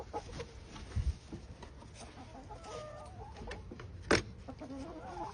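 Chickens in a backyard coop, with soft scattered clucks and fowl calls at moderate distance over a scratchy ambient background, plus a couple of sharper knocks.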